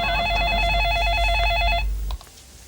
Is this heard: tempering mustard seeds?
no